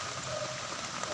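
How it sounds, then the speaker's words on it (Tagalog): Rain falls on a vegetable garden as a soft, even hiss of drops on leaves and soil, steady and fairly quiet throughout, with no voices. "Isang ulan. Basa na ako sa ulan."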